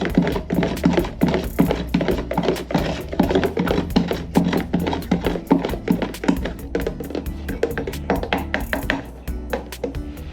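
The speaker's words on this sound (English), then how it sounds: "I'm going to stir this up." Rapid, steady tapping and clinking as a utensil stirs liquid plant fertilizer mix in a container, continuous and close for several seconds with no voices.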